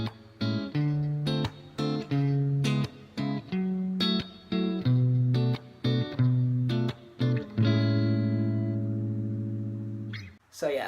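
Guitar strumming a major chord progression with borrowed minor chords, clean and close, chords struck in short rhythmic bursts before a final chord rings out and fades.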